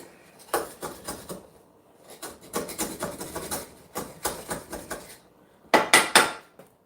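Rough scraping strokes from a scraper tool working over a boat hull in dry dock, coming in short rhythmic bursts of repeated scrapes with brief pauses between groups, close and fairly loud, no voices.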